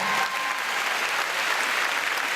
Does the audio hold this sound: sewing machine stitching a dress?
no